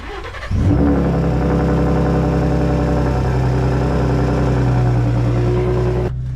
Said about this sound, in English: Let's get that true cold start.